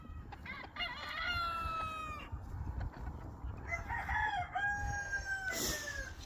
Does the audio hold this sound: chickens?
yes